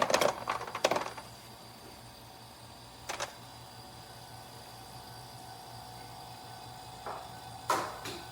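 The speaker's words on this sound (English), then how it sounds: "But you can hear the ice cubes drop." Ice cubes dropping inside an ecozy 2-inch clear ice ball maker, a cluster of sharp clattering clicks at the start, then scattered single clinks later over a steady machine hum.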